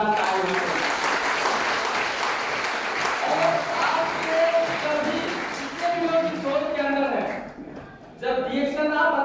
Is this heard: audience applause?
yes